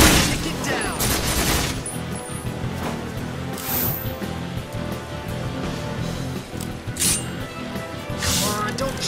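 Gunfire in the video game Resonance of Fate: rapid, overlapping shots and bursts crackle throughout, mixed with game music and effects at a steady, busy level.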